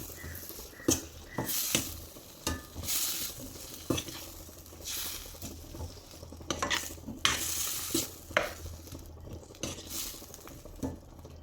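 Gooseberry pickle with jaggery stirred in a pan, a spoon scraping through the thick mixture in irregular strokes over a soft sizzle, close and moderately quiet, with no voices.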